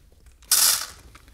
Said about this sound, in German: Und dann sprühe ich jetzt einmal hier wieder drauf, vom selben Abstand.